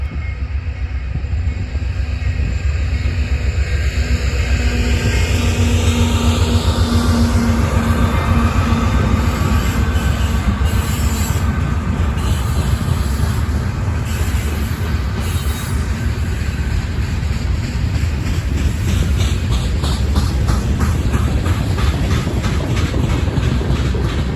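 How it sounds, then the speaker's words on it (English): A Norfolk Southern westbound mixed manifest freight train rumbles past close by in Elkhart, Indiana, for the whole stretch, steady loud wheel noise with rhythmic clatter and occasional high metallic squeals. "an NS westbound mixed manifest train yarding an out cart"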